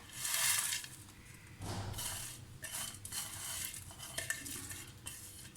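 Browned onions go into a pot of chicken for Sindhi biryani, with a quiet mix of spoon scrapes, clinks and shuffling stirring noises and a faint sizzle underneath, and no talking.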